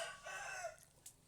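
Chicken crowing close by, a single short call that trails off, followed by a faint brief cluck-like chirp, with no talking over it.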